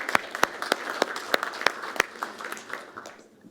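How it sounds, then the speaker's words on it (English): Sparse clapping from a small audience at the MCB Hack 2021 event, individual claps rhythmic and fairly close, fading out after a few seconds. "give a big hand of applause to Frode Nordbø and Mats Ommundsen."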